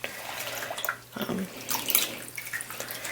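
Water poured and splashing over a baby during a bath, with close trickling and splashes that swell in bursts and ease between them, no talk.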